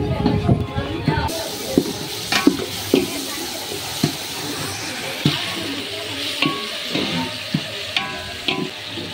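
Tomatoes frying and being stirred and scraped in a large pot for chicken biryani, with steady sizzling and repeated clanks of a ladle against the metal, close up.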